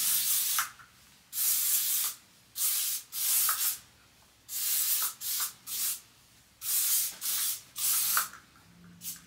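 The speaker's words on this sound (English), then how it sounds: "I'm gonna go in with the heat protectant spray" Repeated short bursts of heat protectant hair spray hissing, about a dozen spritzes in uneven rhythm with brief pauses, close and fairly loud with no talking.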